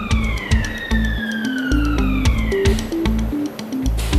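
Warning siren at a parcel centre signalling that the conveyor system is restarting: a loud, steady tone with a slowly falling pitch, sounding over rhythmic machinery clatter and thumps.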